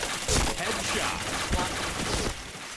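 Video game gunfire from a shooter match crackles in quick bursts of shots at moderate loudness, with no talk over it.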